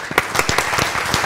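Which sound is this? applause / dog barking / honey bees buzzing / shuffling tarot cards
applause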